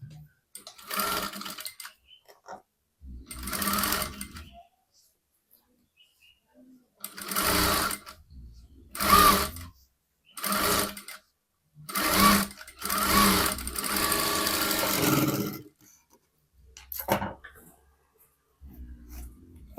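Sewing machine stitching folded fabric for a 44-inch katori blouse, heard in repeated close bursts of running stitches separated by short pauses.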